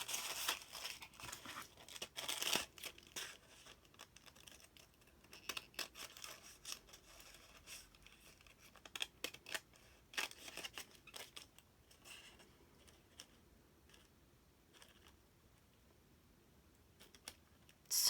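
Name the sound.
old scissors cutting paint chip samples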